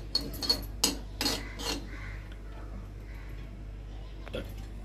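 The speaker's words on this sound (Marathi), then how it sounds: "अगदी पाव चमचा खसखस, कारण थोडंसंच आहे ना आपलं सारण, चांगली भाजून घेते याच्यामध्ये तुपात" Poppy seeds roasting in ghee with a spoon clinking and scraping against the pan in a few sharp bursts early on, then a low steady hiss; no talking.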